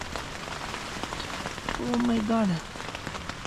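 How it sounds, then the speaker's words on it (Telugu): Steady heavy rain drums on a tent during winter camping in a Scottish forest, a dense continuous patter, with a brief exclaiming voice partway through. "బయట అయితే స్నోనే లేదు, ఫుల్ వర్షం పడుతుంది."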